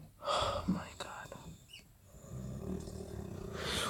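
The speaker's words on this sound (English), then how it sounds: "Why are you fucking snoring like that?" A person snoring loudly over voice chat during a PUBG game session, heavy rasping breaths surging in and out close to the microphone across the whole stretch.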